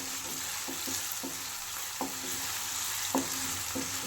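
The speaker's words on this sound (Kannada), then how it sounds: "ಚೆನ್ನಾಗಿ ಫ್ರೈ ಮಾಡಬೇಕು ಈರುಳ್ಳಿನ." Chopped onions frying in hot oil give a constant sizzle, broken by a few sharp scrapes of a spatula stirring them in the pan.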